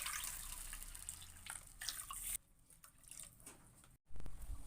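Water being poured into a pan of fried semolina for pineapple kesari, a quiet splashing trickle that stops partway, leaving soft kitchen background and a brief knock near the end.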